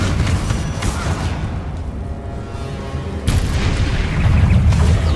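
A Confringo fire spell bursts in Hogwarts Legacy during a fight with spiders, a loud booming explosion over dense combat noise, followed by a second blast that swells toward the end.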